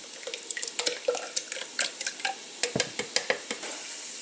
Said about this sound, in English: Stir your meat. If you guys are using meat, don't forget to stir it.